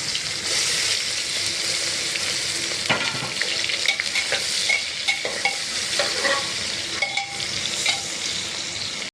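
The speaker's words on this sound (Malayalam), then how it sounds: "ഇതിലേക്ക് നമുക്ക് കുറച്ച് ഉള്ളിയും കൂടെ വറുത്ത് കോരിയെടുക്കാം" Onions sizzle loudly in hot oil, a continuous crackling fry with occasional scraping stirs.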